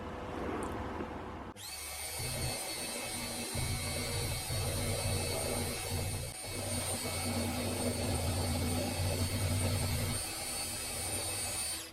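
A milling machine with a rotary table cuts cast aluminium for a tensegrity sculpture, a steady high whine and hum that holds for the whole stretch, with the cutting tone shifting in pitch as it goes.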